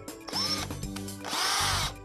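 A power drill drives a metal dowel into the top edge of a wall unit panel, its motor whirring close and loud in two bursts with a short pause between.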